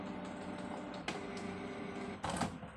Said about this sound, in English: Ang printer natin ay Canon G10 series.